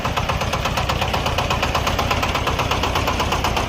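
A Shifeng 240 single-cylinder, belt-drive mini tractor engine runs close by with a loud, rapid, steady diesel knock and no speech.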